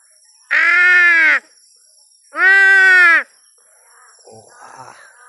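Crows give two long, loud drawn-out calls a second or so apart, each harmonic and harsh, followed by softer, scattered chatter and rustling nearby.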